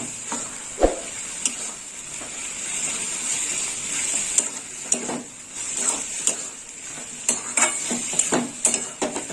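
Pointed gourd (potol) stir-fried in a pan with chilli powder, salt and sugar sizzles softly while a utensil scrapes and clinks against the pan in irregular strokes.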